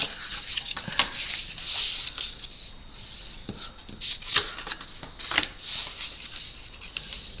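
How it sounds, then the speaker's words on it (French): A bone folder scoring fold lines lengthwise on paper for a trapezoid scrapbook box, making soft, close scratchy strokes with a few sharper taps, quiet with no talking. "moi je trace les plis en longueur comme ceci"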